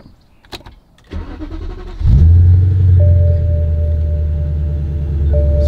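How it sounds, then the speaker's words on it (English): A BMW M3 E90's engine is cranked briefly by the starter, then catches with a loud burst and settles into a deep, steady idle rumble close by, with no voices. "let's go ahead and start up the car and see if these function"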